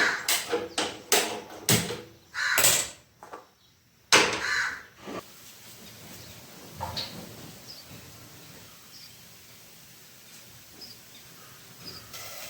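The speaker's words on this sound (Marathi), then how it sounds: "कावळ्याचं फक्त ओरडणं बंद झालंय" A crow caws several times in quick, loud bursts, then goes quiet, leaving faint background noise and a few distant chirps.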